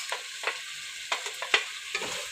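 Red and green peppers tumbled into meat already frying in a pan for okra with meat, giving a soft sizzle broken by several short scraping stirs, close and fairly quiet, with no talk.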